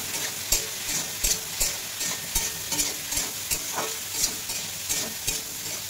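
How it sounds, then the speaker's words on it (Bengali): Salted ridge gourd fries in a pan with a continuous sizzle, broken by regular scraping knocks of a spatula stirring about once every half second, close and moderately loud. "ভালোভাবে একটু ভেজে নেব।"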